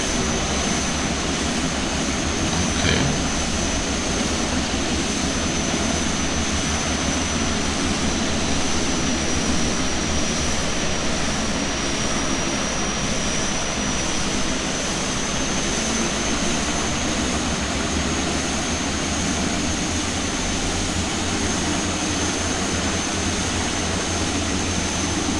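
Small short-takeoff aircraft powering up for takeoff at Kathmandu airport, a loud steady engine roar with a high whine running unbroken throughout, close and dominant with no talk.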